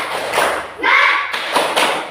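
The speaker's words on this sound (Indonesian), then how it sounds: "Kita tepuk semangatnya yang semangat" A group does a rhythmic spirit clap, tepuk semangat, with quick thudding claps in a short pattern, close and loud, briefly mixed with a voice.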